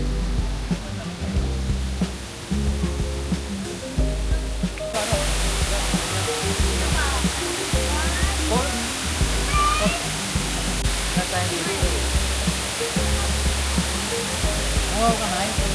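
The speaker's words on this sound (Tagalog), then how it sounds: "May falls sa loob." An indoor waterfall at a Taipei landmark gives off a constant rushing roar, with people talking throughout and a brief tonal cry mixed in.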